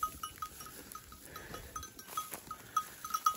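A flock of sheep on a high mountain pasture, with tinkling bells ringing irregularly and faint scattered bleats, fairly quiet and somewhat distant, with no talk.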